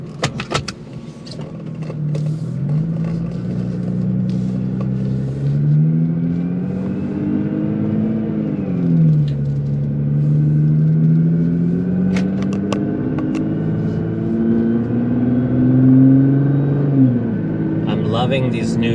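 Car with a Stage 1 Cobb tune driving on a road, a loud steady engine drone that rises and falls through shift points, close inside the cabin with a voice talking over it.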